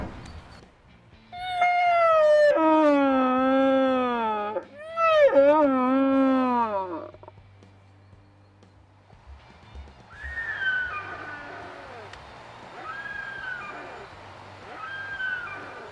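Red deer stag roaring in the bush, long loud moaning bellows at close range, followed by fainter, shorter calls further off, with quiet moments between.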